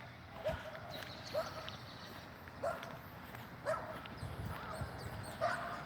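A dog barks in the distance in a small village, about six evenly spaced single barks, faint against a steady outdoor background.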